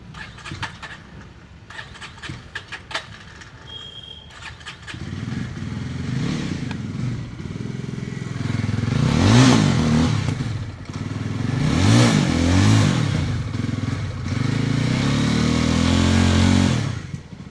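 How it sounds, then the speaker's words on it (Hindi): A Yezdi Roadster motorcycle with a double silencer exhaust starts with clattering, then settles into a loud, throaty idle with several revs rising and falling, close by, no talking. "तो अभी ये है इसका साउंड डबल साइलेंसर का।"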